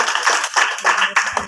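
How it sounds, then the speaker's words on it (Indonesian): Short bursts of audience clapping at a junior high school quiz competition, close and fairly loud, rising and falling in quick waves. "Kita beri aplaus yang meriah."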